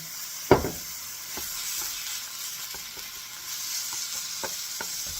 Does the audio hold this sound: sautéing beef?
yes